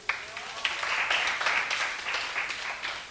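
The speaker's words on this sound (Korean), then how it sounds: "박수 한번 쳐주자." Modest applause rises from a classroom of students, a fairly faint and brief patter of hands clapping that swells and then tapers off.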